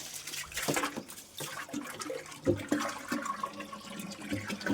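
Water gushing and splashing into a container, with intermittent clatter and bursts, fairly close and unbroken by talk.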